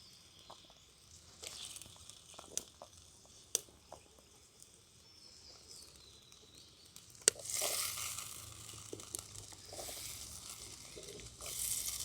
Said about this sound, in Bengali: কচু, আলু, কুমড়ো দানা, এই কাঁঠাল দানা আর এই বেগুন, সমস্ত সবজিগুলো দিয়ে দিলাম